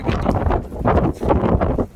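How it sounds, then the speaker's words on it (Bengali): Gusty stormy wind batters the microphone in surging, rumbling bursts that rise and fall throughout, during a days-long rainstorm in Kuwait. "আজকে 2 দিন যাবৎ তুফান হচ্ছে, খুবই ঝড় বৃষ্টি।"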